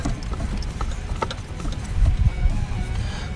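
Oil filter on a Toyota D4D diesel being screwed back on by hand, a run of faint clicking, scraping mechanical sounds close by.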